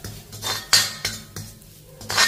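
A spoon knocks and scrapes against a pan in several sharp clinks while garlic and asafoetida are sautéed for a drumstick-leaf powder, close and alone with only a faint background hum.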